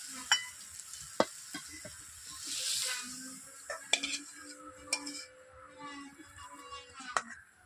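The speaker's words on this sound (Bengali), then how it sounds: "চচ্চড়ি রান্না করা হয়ে গেছে, আমি কড়াই থেকে তুলে নিচ্ছি।" Metal spatula scraping cooked chorchori, a Bengali mixed-vegetable dish, out of a wok, giving a series of sharp clinks and scrapes over a soft sizzle, close by and moderately loud.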